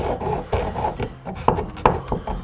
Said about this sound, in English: I can use that hole and use it to put my hacksaw blade in there.